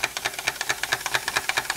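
An old Bing vertical steam engine, close to a century old and unrestored, runs steadily nearby with a fast, even train of light chuffing knocks and a faint metallic rattle, with no voices.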